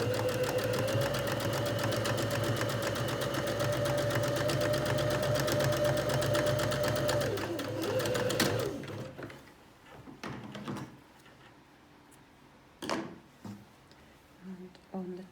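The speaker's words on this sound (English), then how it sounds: "I'm just going to stitch close to the edge, which is known as edge stitching" Sewing machine edge stitching a tote bag, running in a loud, steady whirring hum for about eight seconds before stopping, followed by quieter handling clicks and knocks.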